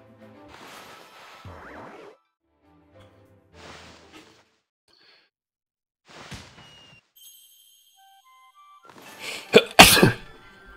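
A loud, sharp sneeze bursts out near the end, breaking an otherwise quiet stretch of scattered game sounds and faint chimes during an Okami speedrun.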